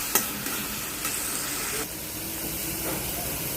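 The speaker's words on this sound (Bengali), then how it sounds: "এখানে রসুন, পাঁচফোড়ন আর শুকনো লঙ্কা ভেজে নেওয়া হচ্ছে। ভাজা হয়ে গেছে, এখন কচু শাকটা ঢেলে দেবো।" Taro greens frying in a pan with garlic, panch phoron and dried chili, a continuous moderate sizzle with a few sharp stirring scrapes and clinks near the start.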